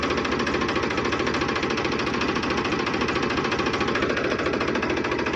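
A tractor engine labours under load with little pulling power, a loud, steady knocking drone that holds continuously throughout without letting up.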